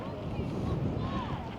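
Wind blows on the Great Yarmouth seafront near Britannia Pier, a constant low roaring rumble buffeting the microphone, loud and close throughout the short stretch.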